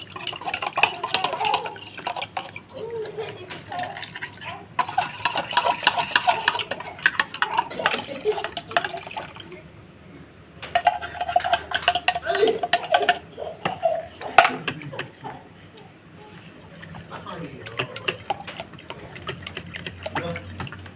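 A fork beats batter in a bowl, with a little water added, giving fast, light clicking and tapping against the bowl. The sound comes in bursts with short pauses and is close and fairly quiet.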